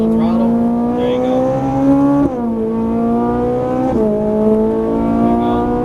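Ferrari 458 Italia V8 accelerating on a racetrack, a loud steady engine note climbing in pitch, then dropping briefly at an upshift and climbing again, with an instructor's voice over it.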